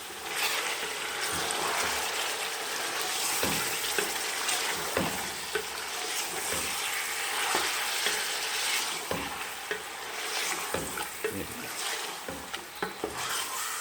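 About 2.5 kg of large beef shank pieces sizzle and fry in a pressure cooker for nihari, with a dense, steady crackle throughout and occasional stirring knocks.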